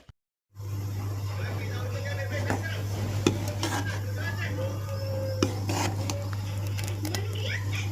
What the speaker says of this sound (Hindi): और इसमें अब घोल के डाल देंगे बेसन और दही।